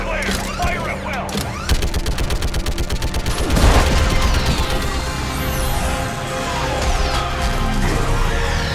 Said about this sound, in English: Clear! Fire at will!